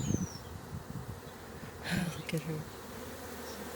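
Honey bees buzz around a swarm trap set beside a larger hive, a faint steady drone with a few louder passes near the mic, while a voice speaks briefly.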